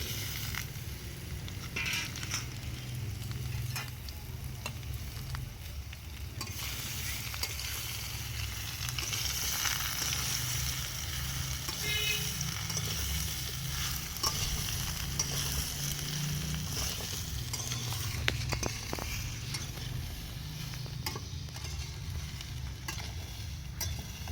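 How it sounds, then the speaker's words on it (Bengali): Mango pieces fry in a kadai with a steady, even sizzle and soft crackle, repeated stirring scrapes running through at a moderate, close level without any talk. "আমি এবার আমটা কড়ার মধ্যে দিয়ে দেবো, দিয়ে একটু ভাজা ভাজা করে নিতে হবে আমটাকে"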